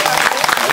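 Audience clapping at a Vietnamese cai luong and tan co concert at Duoc Su Temple in Seattle, a short burst of dense, steady applause.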